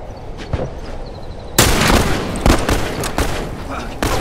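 Sniper gunfire in The Last of Us multiplayer sounds as sharp, loud shots among game-battle noise, with a heavy blast partway through and a voice shouting briefly.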